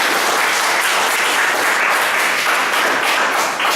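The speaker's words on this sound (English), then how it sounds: "Give them a big round of applause." An audience applauds steadily and loudly for the whole stretch, a dense, even wash of clapping with no pauses and no voices on top.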